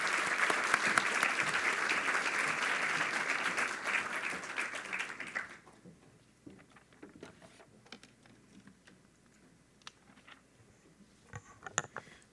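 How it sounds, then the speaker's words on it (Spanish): Audience at an evening event marking Vargas Llosa's 80th birthday applauding in a dense, steady burst that stops abruptly halfway through, leaving faint room noise and a few scattered claps. "a quem peço uma salva de palmas"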